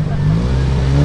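A tuned Volkswagen Golf 1 with a 16-valve turbo engine at a drag racing event gives a loud, sustained engine drone with a steady pitched tone through one short second.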